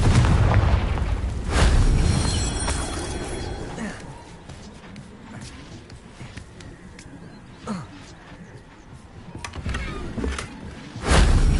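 Fiery explosions from the Confringo spell in Hogwarts Legacy on PS5 hit as loud booming blasts at the start. Scattered sharp impacts and pops follow, and a heavy burst lands again at the end.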